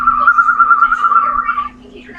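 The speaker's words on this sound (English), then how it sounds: "See, it gets on you whenever you whistle." A person whistles a single steady, clear sustained note to a pet bird, close and fairly loud, lasting nearly two seconds before stopping.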